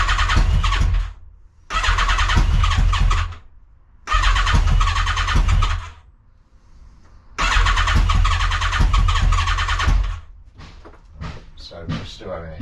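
A Yamaha XJR 1300 motorcycle with throttle position sensor trouble and the choke partly on revs hard in three loud, sustained bursts separated by short idling dips, followed by some clattering handling sounds.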